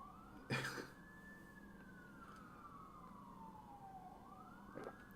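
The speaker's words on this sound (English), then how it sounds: "oh, we got the police sirens going on here" A police siren wails at a distance in a single slow rising and falling sweep, faint over a low background hum, with a brief cough-like noise near the start.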